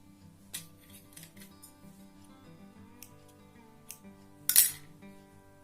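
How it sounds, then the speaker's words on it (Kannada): Scissors snip thread while tying a tassel (kuchu) for a bridal saree, giving a few sharp, close clicks and a louder metallic cut near the end over a quiet background with faint tonal hum. "ಸ್ವಲ್ಪ ಉದ್ದಕ್ಕೆ ಬಿಟ್ಕೊಂಡು ಕಟ್ ಮಾಡ್ಕೊಂಡ್ಬಿಡ್ತೀನಿ"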